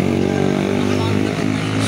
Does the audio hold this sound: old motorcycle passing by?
yes